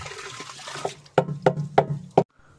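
Irrigation water surges through a guava orchard, splashing and gushing out in a run of about five strong, evenly spaced pulses, close by with no talk.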